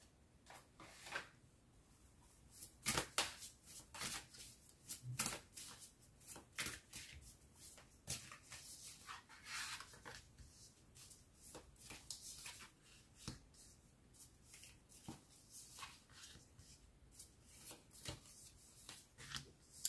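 Tarot cards being shuffled for a reading, quiet riffling and sharp card snaps scattered irregularly across a soft, close background with no speech.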